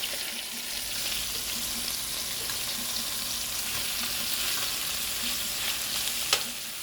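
Chicken sizzles and fries in a pan for a calabaza con pollo dish while being stirred, a steady close hiss with scraping stirs and a sharp clink near the end.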